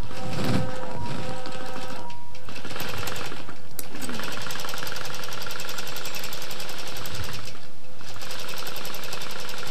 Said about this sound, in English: it's great that any long arm quilting machine can be automated